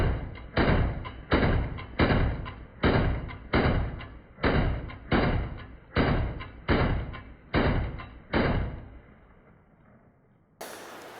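Genesis 12 competition shotgun fires eleven loud, sharp booms in an evenly paced rapid string, each with a short decaying tail, followed by quiet.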